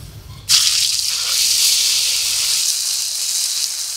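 Ginger-cumin paste drops into hot oil tempered with five-spice, dried red chillies and bay leaves and sizzles. A sharp burst of hiss sets in and then settles into a steady, loud frying sizzle.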